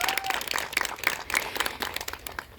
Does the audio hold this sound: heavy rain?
no